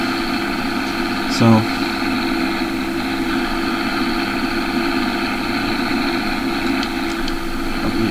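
A farm tractor used for planting and seeding idles with a steady, droning hum and even harmonic vibration throughout, close and loud, as a voice briefly speaks once.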